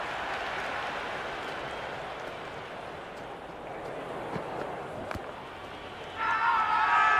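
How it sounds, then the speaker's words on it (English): Crowd noise from a Big Bash League cricket video game, Sydney Sixers versus Adelaide Strikers: a broad, steady roar of spectators that swells louder near the end, heard over faint game commentary. "The crowd is electric right now."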